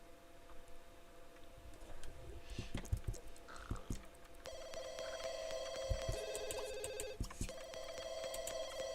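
A telephone rings in The Sims 2, a repeated electronic trill with a steady pulsing rhythm, heard up close alongside soft clicking and tapping.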